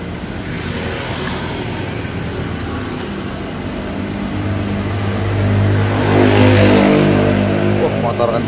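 A red Daihatsu Ayla car engine revs up, a steady low mid-pitched drone that swells louder toward the end, with a voice speaking over it.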